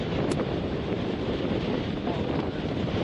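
Strong cyclone winds roar across the mic at the coast in Mandvi during Cyclone Biparjoy, with waves crashing beneath in a steady, loud, unbroken wash and no speech.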